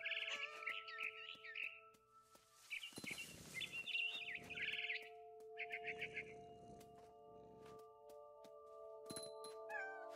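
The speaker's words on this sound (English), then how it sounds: "Then I heard chirping outside my window. It was a barn swallow going back to her nest." A barn swallow chirps in the video game What Remains of Edith Finch, giving short bright twittering bursts in several clusters over sustained tonal game music, with a few louder squeaks near the end.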